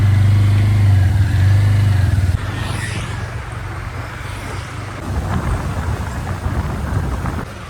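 A motorbike carrying three riders on an errand for Ganesh Chaturthi idol supplies starts with a loud close engine drone, then settles into steady road and wind noise.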